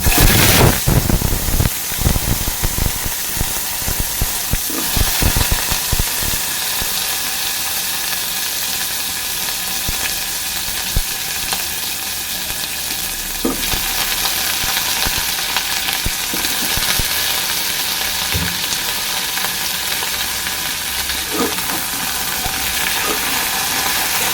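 Vegetables hit hot spiced tempering oil in a pan, bursting into a loud, steady sizzle and hiss that softens a little after the first few seconds, with occasional stirring clatter and no voices.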